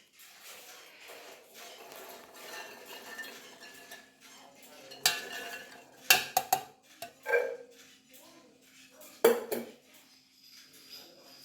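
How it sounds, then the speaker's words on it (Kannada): Pomegranate seeds going into a mixer grinder jar, with quiet handling followed by several sharp clinks and clatters of the jar and utensils, close and intermittent. "ಡೈರೆಕ್ಟಾಗಿ ನಾನು ಮಿಕ್ಸಿ ಜಾರ್ನಲ್ಲಿ ಹಾಕೊಳ್ತಿದ್ದೀನಿ"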